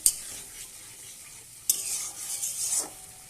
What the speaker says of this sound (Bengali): জল দিয়ে দিলাম একটু, আবার কষাবো এটাকে।